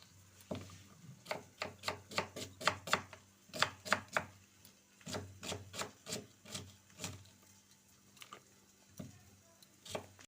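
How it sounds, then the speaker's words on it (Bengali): A knife chops onion on a board in rapid bursts of sharp, close taps, pausing briefly between runs, during home preparation of chicken curry; no one speaks. "বন্ধুরা আমি তাহলে পেঁয়াজটা কেটে নিই"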